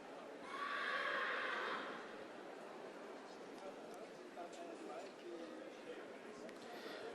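At a stallion inspection, a horse lets out one moderately loud whinny early on, lasting about a second. A steady murmur of indoor crowd and arena noise continues throughout.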